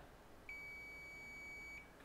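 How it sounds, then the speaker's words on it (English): A single high-pitched electronic beep holds steady for about a second and a half against a quiet background. "that beep is a lot louder than this beep"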